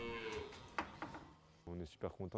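Normandy cows lowing in a rural setting, several harmonic moos in a row, the last ones louder and closer, over a low background murmur.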